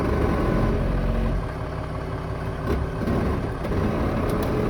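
A 1941 Dodge WC13 truck slipped into gear and creeping slowly forward, its engine a steady, loud low rumble close by that dips slightly as it engages, with no talking.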